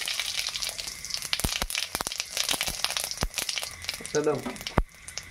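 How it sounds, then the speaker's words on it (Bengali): Bay leaves and cumin seeds hit hot oil for tempering a lentil dumpling curry, giving a steady, soft, crackling sizzle broken by scattered sharp pops and a brief faint voice. "ফোড়নে দেখো তেজপাতা আর জিরা দিয়ে দিলাম"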